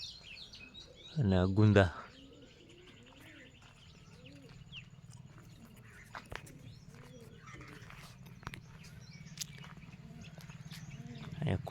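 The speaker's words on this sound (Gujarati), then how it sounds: "જો ચકલાઈ બોલે" Sparrows chirp faintly and intermittently across a Gujarati farm village at morning, a short burst of close talk at the start, then soft scattered tweets over a low steady background hum.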